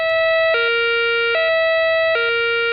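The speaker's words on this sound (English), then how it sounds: "a special COMAR alarm will be sounded if there's a danger to the public" A COMAH major incident public warning siren sounds continuously, a loud electronic tone that steps between two pitches in a repeating pattern, with nothing else heard.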